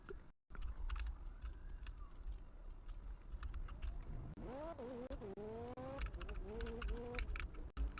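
Rot 1.3 car engine idling in the video game Fix It Up, a steady close rumble that rises into a climbing, revving whine in its second half, with a few sharp clicks near the start.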